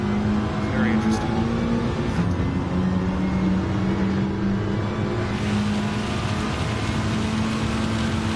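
A Gr.4 Mitsubishi race car in the Gran Turismo 7 video game, on a rainy high-speed ring, gives a continuous, loud engine drone with shifting pitch through corners, with a voice talking over it.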